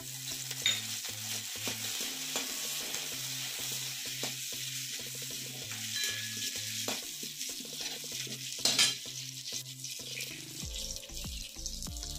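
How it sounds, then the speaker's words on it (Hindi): Green chillies and curry leaves fry in hot desi ghee with a steady close sizzle, while a spoon stirs the pan in a repeated rhythmic scrape and clatter through the whole stretch. "देसी घी हमारा गरम हो चुका है, अब हम हरा मिर्चा फ्राई करेंगे।"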